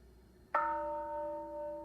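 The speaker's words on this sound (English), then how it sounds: "So hearing the bell," A single mindfulness bell is struck once and then rings on with a clear, sustained tone that slowly fades, alone and fairly close.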